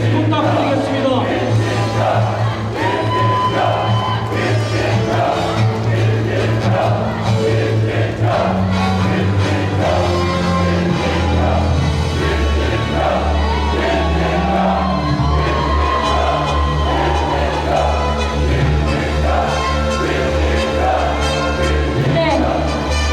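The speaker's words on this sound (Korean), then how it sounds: "승리를 위해 다시 한번 힘찬 박수 부탁드리겠습니다" Loud crowd cheering and shouting at a Democratic Party delegates' convention in Jeonbuk, a sustained roar of voices with whoops over tonal music underneath.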